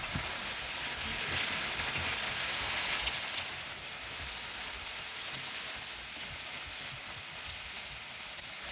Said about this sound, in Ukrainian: Я смажу на маслі